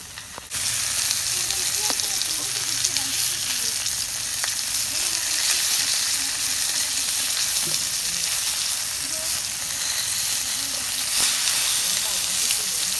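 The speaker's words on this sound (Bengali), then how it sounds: "তেল গরম হয়েছে, এখন আমি মাছগুলো ভেজে নিব" Bata fish fry in hot mustard oil in a pan, with a loud, dense, continuous sizzle that starts abruptly and holds steady close by.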